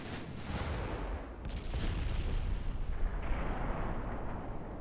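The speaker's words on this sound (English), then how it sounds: "A few volleys of torpedoes." Torpedo volleys and naval gunfire in a 1930s Ottoman campaign battle of Ultimate Admiral Dreadnoughts, heard as dense rumbling booms and bursts layered continuously, with a louder swell of blasts midway and no talking.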